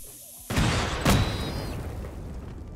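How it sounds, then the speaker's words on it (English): Explosions in a modded video game, two sharp booms in quick succession followed by a rumbling, crackling decay, loud against a quiet background. "We got some explosions going."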